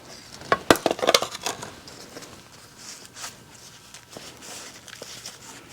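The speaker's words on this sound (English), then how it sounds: "And again, I'm just kind of squeezing the pots around the bottom." Plastic plant pots squeezed and shifted while spring bulbs are arranged, a quick cluster of crinkly clicks and rustles near the start, then quieter scattered handling sounds.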